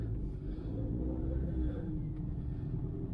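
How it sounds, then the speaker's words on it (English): A car engine idles with a low, uneven rumble and a faint rasp that suggests a possible exhaust leak, steady and quiet, heard alone. "that sounds a little bit like it might have an exhaust leak"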